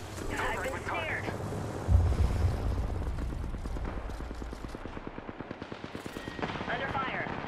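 Gunfire in a video game, a burst of rapid automatic shots with a heavy boom, mixed under voice chat as players talk over the fighting.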